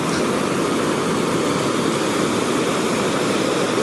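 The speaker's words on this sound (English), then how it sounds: "There are multiple layers of waves, like 1, 2, 3, 4, 5 layers of waves" Ocean surf at Calangute Beach in Goa, several layers of waves rolling in quickly, heard as a loud, continuous roaring wash with no breaks and no voices.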